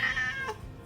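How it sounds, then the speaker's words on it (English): A vocal Thai street cat lets out a single loud, close meow that rises and then bends downward, lasting under a second. "now I have this cat meowing"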